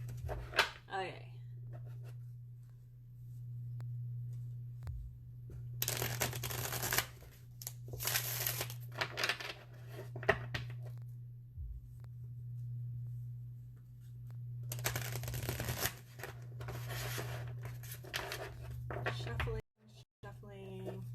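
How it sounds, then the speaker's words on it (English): Playing cards shuffled at a table during a live card game session, two bursts of riffling several seconds apart over a steady low hum, with people talking around them. "Shuffling."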